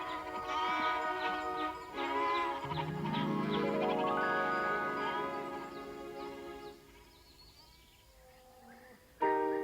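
Goats in a mountain pasture give several drawn-out, wavering bleats one after another, loud and close, with a brief quiet gap before a final sharp call.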